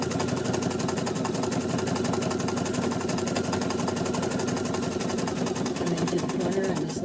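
A sewing machine satin stitches an appliqué, running steadily with a dense, fast mechanical whir that continues throughout at moderate loudness, while a person talks over it.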